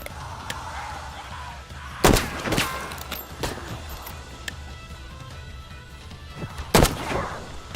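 Flintlock pistol shots in the video game Sand: Raiders of Sophie, two loud sharp reports several seconds apart over a low rumbling background, with scattered smaller impacts between them.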